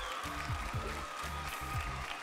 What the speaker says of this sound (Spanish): Un aplauso para Karen.